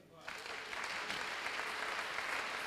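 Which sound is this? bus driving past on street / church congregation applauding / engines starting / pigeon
church congregation applauding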